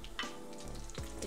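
Whole dried red chilies fry in hot oil in a pan while greens cook, a brief close, steady sizzle with a faint stir.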